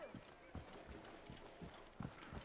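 Horse hooves clip-clop at a steady walking rhythm in Assassin's Creed Origins, set in a rustic part of an ancient Egyptian town, each hoof strike a distinct low thud, with talk over the top.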